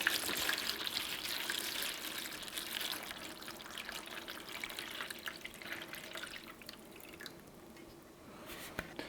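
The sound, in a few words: water poured into a seed tray for bottom watering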